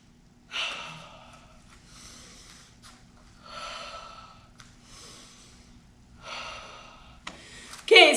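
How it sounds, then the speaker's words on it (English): A group of adults in a taekwondo class breathing in and out together, several long audible breaths in separate waves, close and moderately loud, with no talking. "Take that deep breath in."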